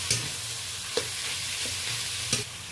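Mashed potato and mushroom filling being stirred in a hot pan, a low continuous sizzle with a few faint taps and scrapes of the spoon against the pan.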